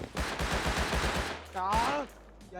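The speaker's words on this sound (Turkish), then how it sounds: "Ben sıkıyorum şu an adamı" Rapid bursts of automatic gunfire in the survival video game Rust, about eight sharp shots in quick succession and fairly loud, followed by a brief rising electronic tone and a faint voice.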